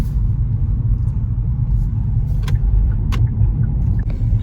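Go-kart engines at the Rockwood go-kart track produce a steady, loud low rumble throughout, with a few brief sharp clicks on top.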